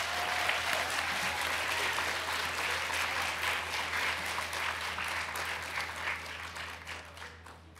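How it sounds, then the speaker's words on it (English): A room of students from New York City schools applauds themselves at a junior ambassadors program year-end event, a sustained, even roar of many hands clapping at moderate volume for nearly eight seconds. "Give yourselves a round of applause."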